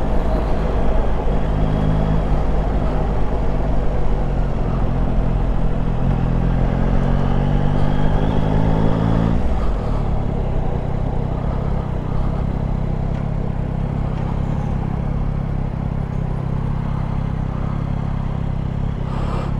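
A Yamaha Tracer 9 GT motorcycle rides through busy Worcester traffic, its engine droning steadily and loudly up close with rising and falling gear tones, over a constant rumble of wind and road noise, no talk.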